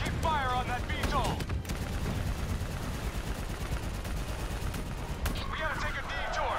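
Gunfire in the Call of Duty: Black Ops 3 campaign, sustained automatic bursts forming a dense, continuous barrage with short electronic chirps near the start and end.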